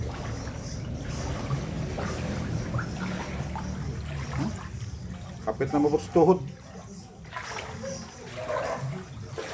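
Floodwater runs continuously through a street without drains in Sagbayan after heavy rain, a low rushing wash with splashes, while people talk over it nearby.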